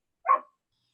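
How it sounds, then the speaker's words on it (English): A single short, muffled dog bark, fairly faint and alone against silence. "sorry, that's my dog."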